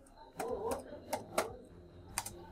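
Keys tapped on a computer keyboard while typing a company name into a stock-trading app search, a few sharp clicks in short bursts under a man's speech.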